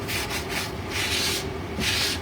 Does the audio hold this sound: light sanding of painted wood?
yes